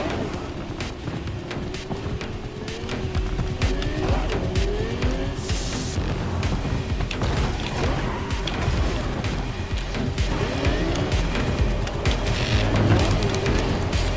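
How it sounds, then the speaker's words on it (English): A fast car in Cyberpunk 2077 roars continuously up close, engine droning loud with bursts of tire screech and skidding as it slides, plus occasional thuds and impacts along the way. "It's a fast car, but I think for me the problem is that I'm so easily losing control"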